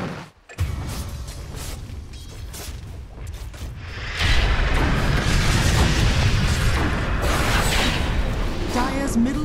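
A tower under attack in a Dota 2 match, booming impacts and mechanical clatter swelling into a loud, dense barrage after a quieter opening, with an announcer-style voice present.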